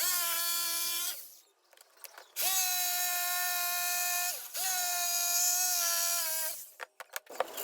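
Power drill boring a hole in wood while building a kids' scooter, whining in three sustained bursts with pitch rising as the motor spins up, separated by short pauses with faint clicks, fairly quiet and close.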